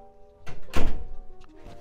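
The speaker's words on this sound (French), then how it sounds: "on va fermer la porte" A door swings shut with a single loud, close thunk, preceded by a short rustle of movement, then a few faint knocks as things settle.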